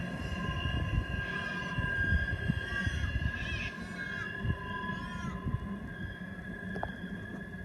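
A train's tail end rolls past at Farmborough Heights on a line bound for Goonumbla, with a continuous low rumble of wheels and wagons and faint squeals, fairly steady at mid distance.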